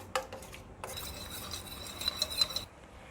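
A utensil scrapes and clinks against a pan in steady stirring motions through mushroom masala sauce with added water, close and fairly continuous, with a few sharper metallic taps.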